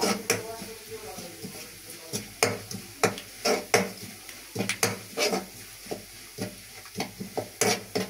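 Garlic and taro flowers sizzling in a frying pan, a steady crackling fry under repeated scraping and clinking strokes of a stirring utensil against the pan.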